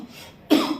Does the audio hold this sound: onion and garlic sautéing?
no